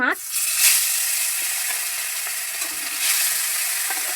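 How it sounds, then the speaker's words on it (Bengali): Steady, loud sizzling of fish frying in hot mustard oil, a continuous bright crackle with a few soft clinks of a utensil. "এবার মাছগুলো লালচে করে ভেজে নেব"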